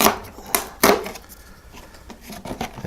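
Cardboard door of a whisky advent calendar for day 13 being broken open, a few sharp crisp snaps and tearing clicks close up, with quieter rustling between them and no talking.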